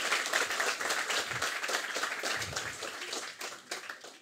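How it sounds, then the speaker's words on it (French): An audience at a student entrepreneurship event applauds the speakers who gave testimonials: a steady, dense wash of many hands clapping at moderate distance, holding for several seconds and tapering slightly toward the end. "On peut les applaudir bien fort"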